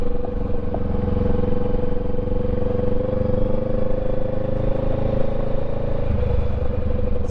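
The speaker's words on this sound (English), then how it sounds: "It's a little squirrely driving on gravel" A motorcycle riding on gravel on a first ride in Alabama: a steady engine drone with a constant hum and rough crunchy rumble underneath, close and continuous.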